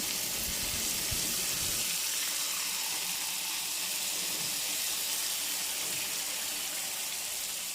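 Unniyappam batter sizzles in very hot ghee in an appam pan, a bright hissing crackle throughout with a louder bubbling burst at the start that settles into a steady fry.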